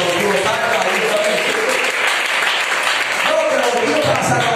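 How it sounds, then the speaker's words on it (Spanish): Applause from a church congregation during a Bible teaching fills the space as a dense, loud, continuous wash of clapping, with voices mixed in beneath it. "Y le fuerte aplauso al Cristo."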